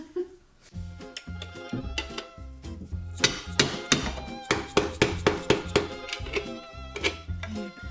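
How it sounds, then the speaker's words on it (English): Metal hammer striking V-band exhaust clamps on a Jetta TDI during an EGR and intake clean, a run of sharp ringing blows in an uneven rhythm, close and clear, growing more rapid midway. "we'll try and pry it up, hammer it off"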